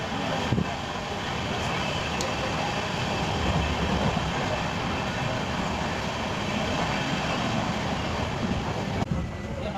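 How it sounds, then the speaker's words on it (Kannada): The 16548 Vijayapur Yeshwantpur Express, heard from on board, runs steadily through Somanakatte station without stopping, giving a continuous broadband rumble and rattle of rolling wheels and carriages at even loudness throughout. "ನಮ್ಮ ಟ್ರೈನ್ ಈಗ ಸೋಮನಕಟ್ಟೆ ಸ್ಟೇಷನ್ನ ಸ್ಕಿಪ್ ಮಾಡ್ತಾ ಇದೆ."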